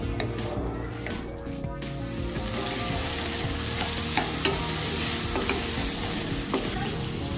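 Ghee sizzling hard in a pan of cooking dal while it is stirred, a steady close frying hiss with scraping stir noises throughout and no talk.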